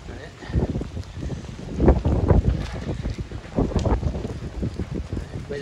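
Strong gusting wind and rain on a street in Taiwan during Typhoon Kong-Rey, rough buffeting bursts against the microphone that swell and fade, with a voice talking underneath.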